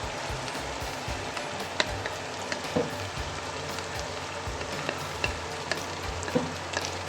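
Part-boiled mash dal roasts in fried spice masala for a dhaba-style dal, giving a steady close sizzle and hiss with scattered scraping and clinking from a spoon stirring the pan, with no voices.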